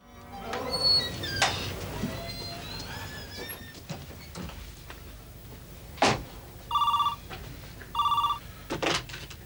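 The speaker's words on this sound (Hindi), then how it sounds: "न्यूयॉर्क से मिस्टर गार्डनर का फोन था" An old-style telephone bell rings in a Hindi TV drama, with two distinct bursts of electronic ringing in its later half, clear and fairly loud. Scattered knocks and faint background noises come before the rings.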